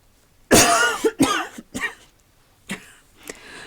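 A person coughs several times: one heavy, harsh cough followed by a few shorter, weaker coughs and throat-clearing bursts with pauses between, close and alone.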